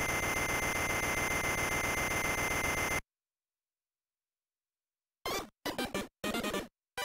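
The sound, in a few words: alarm clock ringing in video game Wario Land 2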